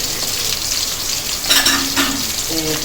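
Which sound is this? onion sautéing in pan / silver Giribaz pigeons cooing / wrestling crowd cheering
onion sautéing in pan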